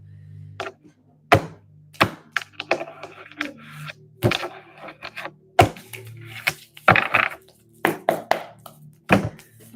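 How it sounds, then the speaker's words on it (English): Tarot cards being shuffled by hand, a series of sharp slaps and taps in an irregular rhythm with soft riffling between them, close and clear with no talking. "Let's shuffle a few times."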